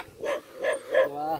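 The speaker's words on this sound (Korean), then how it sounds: "오, 새끼 멍멍이." Small puppy giving three short, high barks or yips in a row, fairly faint, followed by a brief whine.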